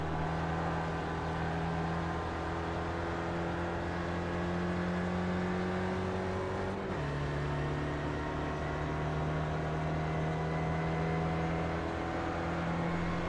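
Steady, loud whine of an SRF race car engine in the iRacing sim at Watkins Glen, holding a rising drone that drops in pitch at an upshift about halfway through, then climbs again.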